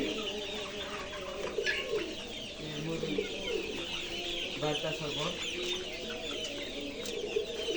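Chickens on a house rooftop cluck and call steadily throughout, with occasional wing flaps and bird chatter nearby, while someone talks briefly over them.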